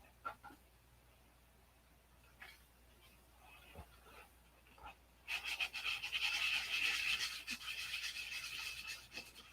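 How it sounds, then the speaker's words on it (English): Hand sanding on a P-47 model airplane, a steady scratchy rasp that rises partway through and keeps going close to the mic, with faint background noise before it. "you better sand it again because you ain't done"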